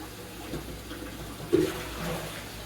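Water runs from a tap at a kitchen sink while dishes are rinsed, a soft continuous splashing with one brief louder burst midway.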